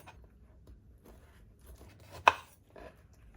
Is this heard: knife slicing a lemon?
yes